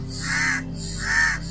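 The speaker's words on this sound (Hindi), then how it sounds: "देवराज इंद्र के पुत्र जयंत ने कौवे का रूप धारण कर भगवान राम की शक्ति को परखना चाहा" A crow gives two loud, drawn-out caws, close and clear, spaced about half a second apart, used as a sound effect in a Hindi mythological story about a crow.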